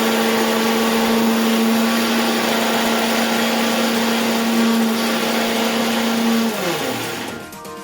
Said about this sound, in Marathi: हे जे आपले भाजलेले धने आहेत हे आपण मिक्सरमधून बारीक करून घेऊया